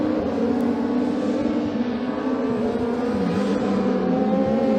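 A rallycross car brakes hard into the final corner at Blyton Park during a BTRDA Clubmans race, its engine note holding loud and close as a droning tone that dips and shifts pitch while the car slows.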